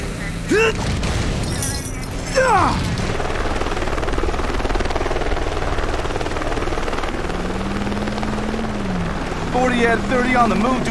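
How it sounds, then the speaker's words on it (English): A news helicopter in the Driver San Francisco video game thumps with a continuous rotor drone under shouted voices, with sirens wailing in the background. "assist officers under fire from a goddamn news chopper."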